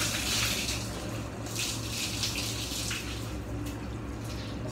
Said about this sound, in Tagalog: Bus-bus tayo ng tubig dito para malinis naman